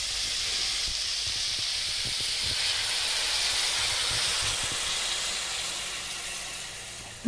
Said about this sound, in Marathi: बघा आता उकळी पण आली आहे